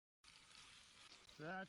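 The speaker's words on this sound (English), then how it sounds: "he lays the wahoo fillet onto the sizzling surface, the meat instantly searing to a golden crust" A close, steady sizzle of a wahoo fish fillet searing on a hot pan, with a voice briefly speaking over it near the end.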